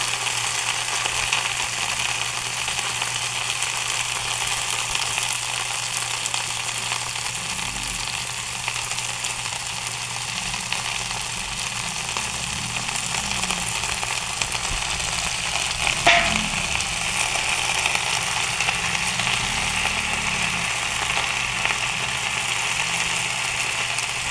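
Kangkong with tokwa sautéing in a pan, a steady broadband sizzle that holds close and even throughout, with a faint low hum beneath and one brief sharp clink midway; no one speaks.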